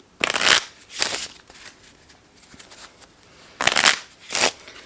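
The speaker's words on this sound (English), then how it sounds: "So let's put the queen back in and shuffle for card number 3." Playing cards are shuffled in quick riffling bursts, two close together, a pause, then two more, crisp and near.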